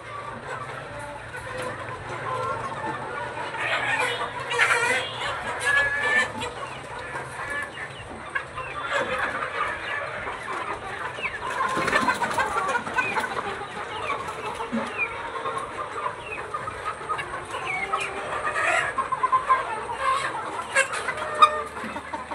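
Chickens clucking inside a poultry farm shed, a continuous overlapping chorus of many birds at moderate loudness with occasional louder calls, steady throughout.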